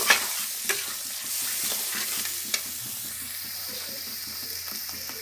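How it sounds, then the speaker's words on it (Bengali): Water poured into a pan of prawn malai curry cooked in mustard oil, starting a steady close sizzle with stirring clatter and a few sharp utensil knocks, running continuously without talk. "এবার আমি অল্প করে জল দিয়ে দিচ্ছি আর একটু জল দিয়ে"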